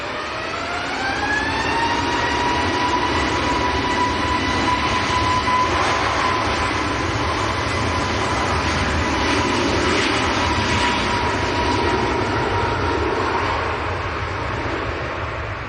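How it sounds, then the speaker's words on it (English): A Ryanair airliner touching down at Manchester Airport on a windy day, a loud steady jet roar with a rising engine whine that holds, then settles into broad rumbling rollout noise throughout, with no talk. "Ryanair touching down"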